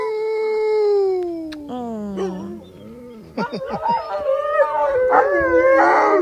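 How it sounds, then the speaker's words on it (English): Several long, wavering howls rise and fall in pitch, overlapping into a chorus of wolves at a wolf sanctuary with some yipping, fairly close and loud. "Listen to them howling."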